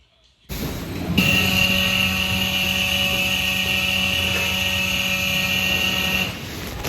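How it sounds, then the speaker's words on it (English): A package conveyor belt at a UPS facility whirs to life with a steady droning hum and high whine, running evenly for several seconds before cutting off. "that noise that you just heard means that somebody just turned the belt back on"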